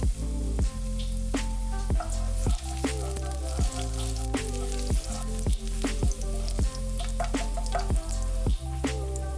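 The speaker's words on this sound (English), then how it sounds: "now we're going to fry 3 cloves of finely sliced garlic for around 2 minutes or until it's aromatic" Finely sliced garlic, three cloves, fries in a pan over medium heat, giving a steady close sizzle with crackling pops and spits repeating throughout, no voices.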